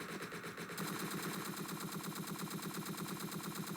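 Rapid automatic gunfire from the shooter game Entry Point rattles on continuously in dense, loud bursts, close and unbroken for the whole stretch with no talk over it.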